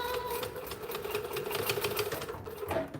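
A sewing machine runs continuously while stitching a fabric bag strap, a steady rapid mechanical whir with fast needle ticks and a brief pitch change near the end, close and fairly loud.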